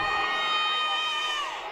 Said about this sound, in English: it's about as loud as the crowd has been all night